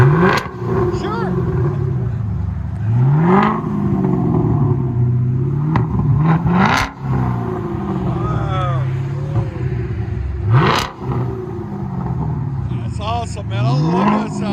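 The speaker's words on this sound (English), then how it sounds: "I love that sound of that. FLOWMASTER Outlaw, 5-inch tips." Chevy Camaro SS with a 6.2L V8 and Flowmaster Outlaw exhaust on 5-inch tips, revving up in several sharp, rising bursts over a loud, steady idle rumble, with people talking nearby.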